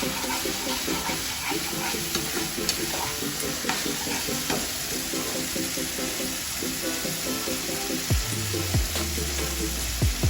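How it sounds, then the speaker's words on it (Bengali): Spice paste frying in sunflower oil in a pan gives a steady, loud sizzle with repeated scraping stirs throughout, and near the end a low swelling rush as water goes into the hot pan. "ভালো করে মশলাটা ভাজা ভাজা হয়ে যায়"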